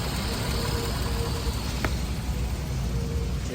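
A supercharged Toyota X-Runner engine idles with a steady, smooth, close rumble and constant mechanical whine, unbroken throughout.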